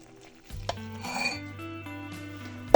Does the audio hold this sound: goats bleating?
no